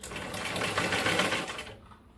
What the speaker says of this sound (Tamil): இந்த நெக் பீஸும் வந்து இழுக்காமல் நீங்கள் வந்து ஸ்டிச் பண்ணணும்